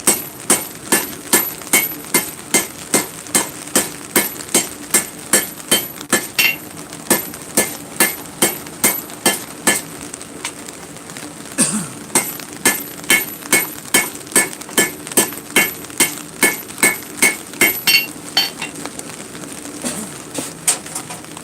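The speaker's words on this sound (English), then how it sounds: "I'm just going to hit with the corner of my hammer, or the edge of my hammer" A hammer edge strikes metal for a cell phone stand over and over in a steady rhythm, sharp ringing clanks close by, dozens of blows with brief pauses.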